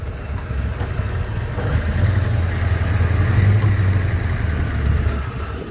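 A 1971 Ford XY Falcon GT-HO Phase 3 replica burbles with a deep, steady low engine tone that swells slightly in the middle, close and alone with no talking.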